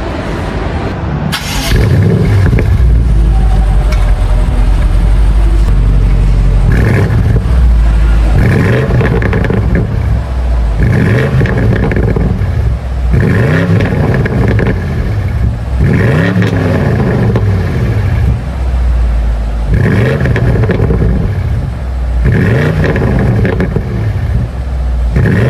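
A 4.4-liter V8 car engine cold-starts and then idles loudly nearby, with a deep rumble and repeated rhythmic revs swelling and falling every couple of seconds.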